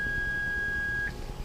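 A Honda instrument cluster sounds a single steady electronic beep for about a second when the cruise control decel button is pressed, then cuts off cleanly with a quiet room behind it.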